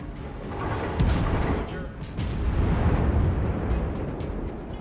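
Heavy naval gunfire booms from a Cruiser V Omaha battle in the video game World of Warships on the Strait map, dense rumbling blasts rising around the first and second seconds, with a constant roar beneath.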